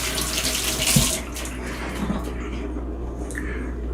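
Water pours steadily from a kitchen tap into a sink while equipment is washed up during blackberry wine making, a close continuous splashing rush with a few faint knocks and no talk.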